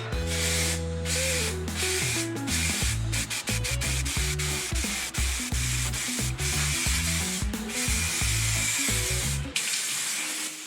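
Aerosol spray paint hissing in bursts while the final coat goes onto bicycle parts, the spray sitting under steady background music.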